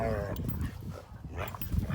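Huskies whine and yip close by in short bursts, mixed with a person talking.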